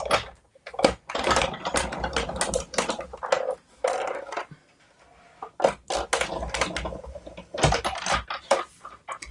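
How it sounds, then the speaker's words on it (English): An embossing machine presses a card through a butterfly-patterned embossing folder, with close, repeated mechanical clicks, rattles and grinding bursts in uneven runs, broken by two short quiet gaps and no talking. "emboss that straight into the embossing folder. To bring back my machine sitting here."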